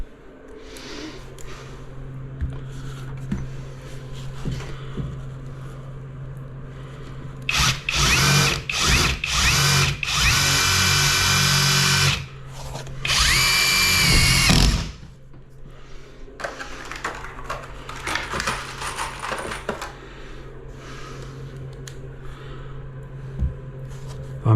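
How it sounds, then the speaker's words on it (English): Power drill driving screws through timber into a steel-framed house, with several loud whirring bursts of a few seconds each, separated by quieter stretches of handling and low background hum. "that's why I'm screwing the timber in, because it's a little bit tricky to nail."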